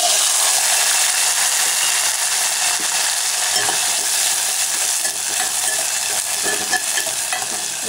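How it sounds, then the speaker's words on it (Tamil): Sambar onions (small shallots) sautéing in a pan for sambar onion gothsu, a steady broadband sizzle with occasional scraping stirs, close and continuous with no speech. "இப்போ வெங்காயம் ஆட் பண்ணிக்கலாம்."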